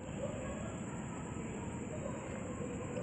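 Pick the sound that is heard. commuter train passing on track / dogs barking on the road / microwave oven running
commuter train passing on track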